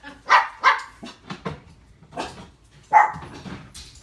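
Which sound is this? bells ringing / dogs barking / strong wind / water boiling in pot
dogs barking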